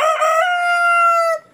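A single loud, close rooster crow, one sustained cock-a-doodle-doo call from a Rhode Island Red farm rooster, heard alone and cut off cleanly after about a second and a half.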